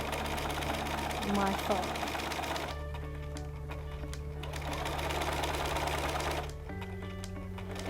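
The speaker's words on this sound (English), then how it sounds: "So I'm literally going to just stitch nice and straight down" A sewing machine runs steadily, stitching bias binding with a dense mechanical whir and hum, its speed shifting a few times while a person speaks briefly over it.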